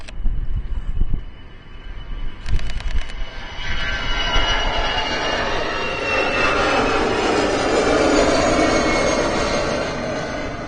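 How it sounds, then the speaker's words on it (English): An EasyJet airliner with the classic engine option rolls down the runway at Amsterdam Schiphol, its engines building from a low rumble into a loud, broad, sustained roar, with a few clicks and clatters early on. "Here we go, EasyJet's rolling down the runway. Classic engine option"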